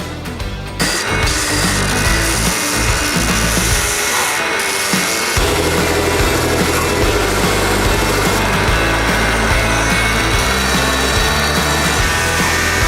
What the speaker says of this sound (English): This is the last belt, 400 grit.